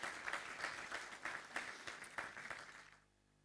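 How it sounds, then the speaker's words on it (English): A crowd at a police recruit graduation parade and passing-out ceremony gives a round of applause, the claps forming a fairly loud, uneven rhythmic patter that tapers off and falls silent near the end. "round of applause for Chris"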